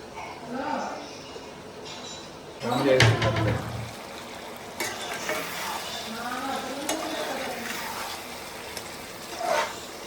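Tomato and chili powder frying and being stirred in a pan for chicken curry: steady sizzling with scraping and clinking of the spoon, one louder burst of stirring, and people talking over it.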